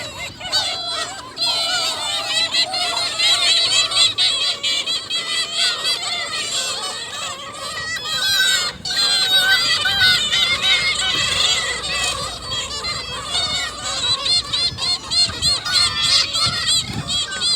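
A flock of geese-like birds honks on a cool, windy, overcast day, with dense overlapping calls repeating almost continuously and loudly throughout.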